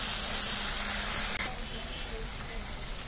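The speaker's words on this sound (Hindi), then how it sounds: "उसके बाद स्वाद अनुसार नमक और हल्दी, मसाला को 5 मिनट भून लेते हैं।" Masala sizzling with salt and turmeric in a pan for a ridge gourd and flower sabzi, a dense continuous hiss that briefly drops out once midway.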